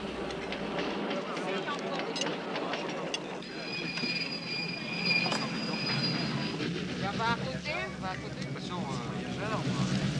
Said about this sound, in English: the caravan pauses to let the descending train pass